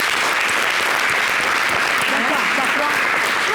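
Studio audience of a Friday-night TV variety show applauds loudly, a thick, unbroken roar of clapping that holds at full strength throughout.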